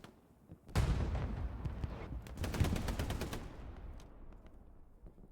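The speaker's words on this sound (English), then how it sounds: "I can hear him shooting" Distant gunfire in a 49-versus-49 multiplayer battle on the Carentan map: a burst of rifle and machine-gun fire starts suddenly, followed by rapid, evenly spaced shots. The shots thin out into scattered faint reports.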